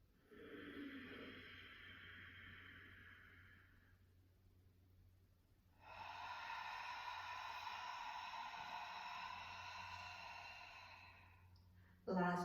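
Two long, strong exhaling breaths during a yoga pranayama breathing exercise, each a loud sustained rush of air lasting several seconds with a pause between, close and alone with no talk.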